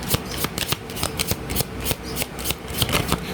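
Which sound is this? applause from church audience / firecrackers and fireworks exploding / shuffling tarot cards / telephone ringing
shuffling tarot cards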